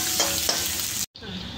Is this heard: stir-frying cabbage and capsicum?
yes